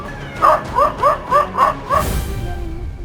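A dog barks five times in a quick, steady series, close and loud, followed by a brief rumble of background noise.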